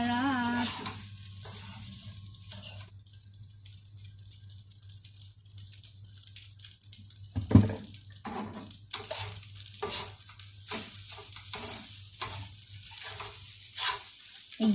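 Garlic fried rice sizzling in a pan while being stirred, soft frying hiss with intermittent scraping and rattling strokes, a brief clatter midway, fairly quiet and close.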